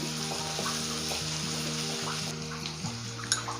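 Spicy mint chicken ingredients sautéing in a pan, a steady soft sizzle with faint stirring scrapes and light clinks, moderately quiet and close with no talk.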